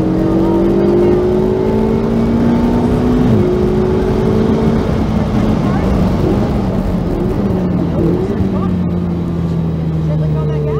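A Ferrari 488 GTB on the track at Homestead-Miami Speedway gives a loud, steady engine drone that rises in pitch as it powers through a corner, heard from inside the car with an instructor talking over it.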